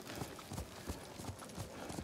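Horse hooves clip-clop at a gallop in the video game Ghost of Tsushima, a steady rhythmic pounding that carries on for two seconds at moderate level under a soft background wash.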